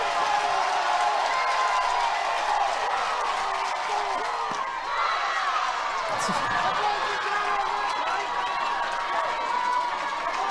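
A stadium crowd at an NCAA softball game between UCLA and South Carolina, fans on their feet, keeps up a steady loud roar and cheering throughout, with a commentator talking over it.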